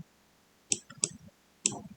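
A computer mouse clicks three times in a quiet room, sharp and close: two quick clicks about a third of a second apart, then one more after a short pause.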